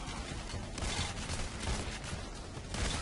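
Sustained heavy gunfire in the heist shooter PAYDAY: The Heist forms a dense, continuous wall of rapid shots and crackling bursts, loud and unbroken throughout with no clear pauses.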